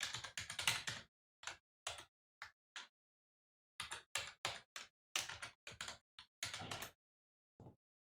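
Someone types a username and password on a computer keyboard to log in to a Cisco Nexus Dashboard, producing close, crisp key clicks in quick bursts separated by short pauses, with no talking.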